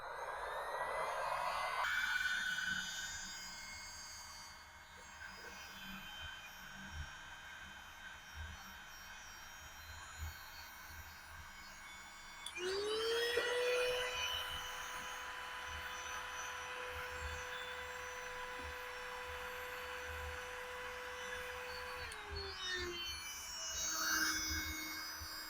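A heat gun shrinks heat-shrink tubing over household electrical grounding wiring, giving a faint, steady whining fan drone that swells as it starts, shifts pitch partway through and winds down near the end.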